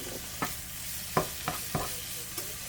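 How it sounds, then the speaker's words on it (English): Steady sizzling of garlic frying in a hot pan, with a few sharp clicks and taps of stirring scattered throughout. "It's still sizzling because it's so hot."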